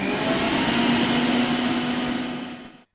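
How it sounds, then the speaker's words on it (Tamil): A mixer grinder whirs at full speed, grinding biscuits with cocoa powder into a fine powder, a loud steady motor drone for nearly three seconds before cutting off abruptly. "இப்போ மறுபடியும் இது எல்லாத்தையும் அரைச்சி விட்டு எடுத்துகிட்டு வந்துடலாம்"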